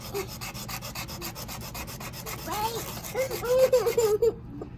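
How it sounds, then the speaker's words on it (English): Steady rubbing scrape of a seed's edges being sanded down by hand, a continuous gritty friction sound close by with someone talking over it partway through. "Sand those edges down. See how it's doing it? Just sand it down."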